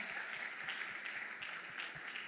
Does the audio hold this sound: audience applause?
yes